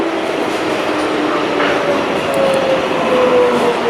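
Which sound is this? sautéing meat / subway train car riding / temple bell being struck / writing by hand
subway train car riding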